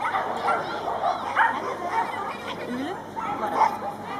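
Tricolor border collie barking and yipping at a dog event near the judges' tower, several short barks and whimpery yips in an uneven rhythm, mixed with background chatter and talk.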